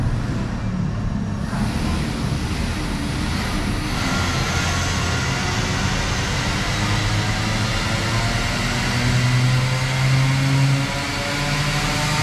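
A Hyundai Kona Electric, rated at 136 HP, accelerates at full throttle on a dynamometer, giving a loud, steady rush of whirring and roller noise with a faint tone that rises slowly.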